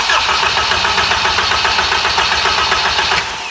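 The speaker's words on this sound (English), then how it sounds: "I'm going to crank it and see how fast it cranks." A Honda Civic Type R engine cranks with a rapid, rhythmic whirring chug, loud and close, before dropping off near the end.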